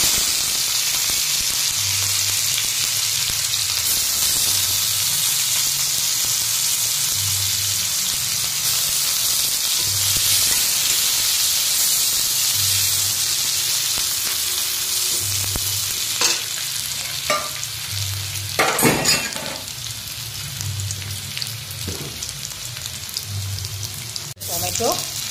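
Onions fry in oil in a pan after cumin seeds: a continuous bright sizzle with a low rhythmic hum underneath and a few louder bursts of stirring partway through.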